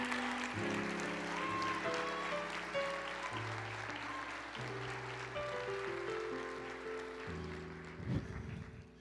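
A church congregation applauding in a steady, continuous wash of clapping beneath sustained keyboard music, moderately distant and even throughout.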